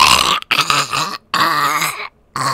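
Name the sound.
voice imitating a gross zombie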